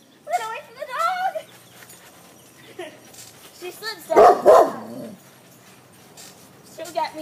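A dog near a trampoline barks and yips in short bursts, with one loud close volley in the middle and lighter yelps around it, while people talk over the scene.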